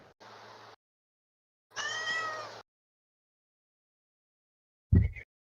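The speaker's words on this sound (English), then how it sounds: "Somebody's kitty cat is not happy about this." A cat lets out three meows, the middle one long and whiny, separated by silence. The last is a short, sharp cry.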